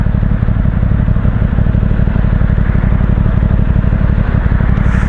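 An Aprilia Tuono 660 Factory motorcycle engine runs steadily at idle, a loud, continuous throbbing rumble with a fast mechanical patter and no other sounds.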